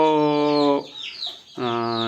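Free-range country chickens on a farm where hens hatch the chicks give two close, loud clucking calls separated by a brief pause.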